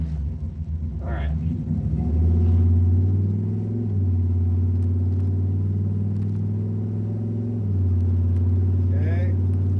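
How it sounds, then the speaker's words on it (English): A restored truck that is running again after nine years drives on the road with a steady low engine rumble, and gear changes shift its pitch now and then while someone talks in the cab. "We're gonna go get back in the car, take it for another spin."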